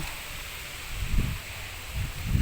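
Low, steady wind rumble buffeting outdoors on a cold morning while gathering firewood, with gusty swells and rustling noise, no voices.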